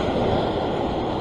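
Ocean waves wash against the rocks at Maroubra rock pool in Sydney, a steady, loud broadband surge with wind noise and no speech.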